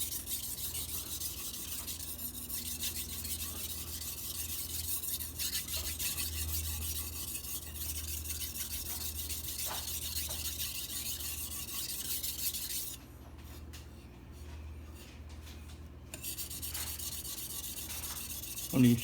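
A carbon steel Santoku knife is sharpened with steady rasping strokes on a stone, close and fairly quiet, pausing briefly near the end.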